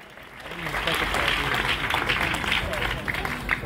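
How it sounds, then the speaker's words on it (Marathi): Crowd applause at a stage event honoring Sushma Andhare, a dense, steady clapping that swells and holds throughout, with some voices mixed underneath. "अर्थात सुषमाताई अंधारे यांच्यासाठी एकदा जोरदार टाळ्या"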